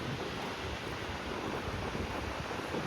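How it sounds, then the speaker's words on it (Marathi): Sea waves rolling in strongly at Diveagar beach, a continuous faint roar of surf mixed with wind buffeting the microphone, with no talk. "समोरच बघा लाटा कशा येतात जोरात"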